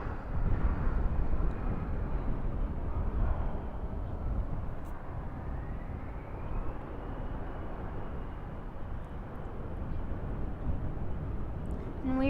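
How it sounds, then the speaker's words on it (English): An Embraer E170 jet arrives at Dallas/Fort Worth airport at night, heard as a broad, steady rumbling roar that stays constant throughout, moderately loud and at some distance. "going for an arrival real quick is a small Embraer E170"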